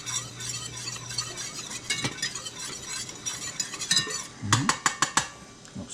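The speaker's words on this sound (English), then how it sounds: "A quick stir." Seasoning being stirred into butter in a bowl while cooking dinner: a spoon scrapes and taps steadily, ending in a quick run of sharp clinks against the dish, close and clear with no talking.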